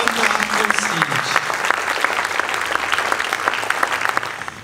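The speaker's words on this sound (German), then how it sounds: "Ein Applaus" Sustained audience applause at a charity running-project event, dense and even clapping that continues throughout before tapering off at the end.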